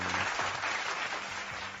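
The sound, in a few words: applause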